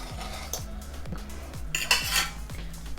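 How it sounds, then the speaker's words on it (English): Metal spoon scraping and clinking against a deep casserole dish lid while crumble topping is spooned onto apple, a regular series of close, light knocks with a brighter scrape near the end. "I'm now just going to spoon the crumble on top"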